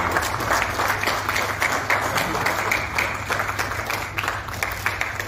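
A crowd at an awards ceremony in Jamshedpur, India applauds with steady, continuous clapping from start to finish, loud and dense, with no pauses.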